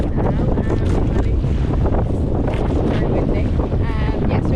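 Strong wind buffets a fishing boat at sea off Amed, Bali, a constant roaring rush mixed with waves and engine rumble, with faint voices underneath.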